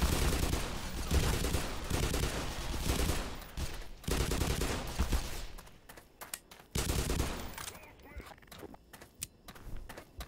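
Rapid bursts of enemy gunfire in the shooter game Black Mesa, dense automatic volleys with scattered single shots, loud and close, thinning out toward the end with sharp isolated cracks.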